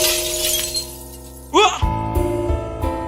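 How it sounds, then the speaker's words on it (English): Glass shatters in the video game Dangerous Fellows, a sharp bright crash followed by tinkling shards, set over soft background music with a few low thuds after. "there was a glass shattering"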